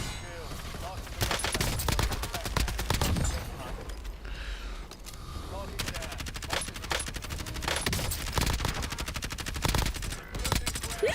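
Rapid gunfire in the Warzone video game as a whole magazine is emptied, dense automatic bursts with a short lull, loud and continuous over a background voice.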